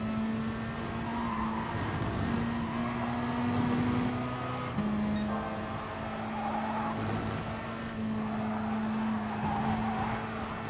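A race car engine in the GT Sport racing game drones steadily and loudly for the whole stretch, its pitch holding, then shifting as gears change, with a constant mechanical roar and no voices.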